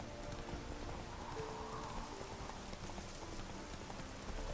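A horse in The Witcher 3 video game, climbing uphill, gives a steady run of clip-clop hoofbeats. The quick, even beats continue throughout, softly mixed with a rain-like patter of ambience.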